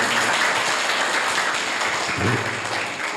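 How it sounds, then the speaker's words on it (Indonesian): Children and audience clapping at a school Maulid Nabi celebration, a dense continuous patter of hands filling the room for about three seconds with a faint low murmur underneath. "Tepuk tangan buat anak-anak sini."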